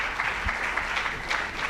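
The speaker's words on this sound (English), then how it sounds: "Let's give a round of applause to our panels." An audience at a youth innovation awards ceremony gives the panel a continuous round of applause, a close, full clatter of many hands that holds steady throughout.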